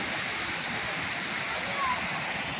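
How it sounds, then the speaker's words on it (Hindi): A constant, moderately loud rush of a waterfall at the Kalyan Kedareshwar Mahadev temple in Sailana, Ratlam, a steady wash of splashing water with no break. "ये देखें एक झरना इधर"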